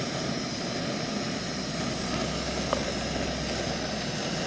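An airplane flies in the distance, a steady low, broad engine rumble under constant hiss, faint and unbroken throughout, with no talk.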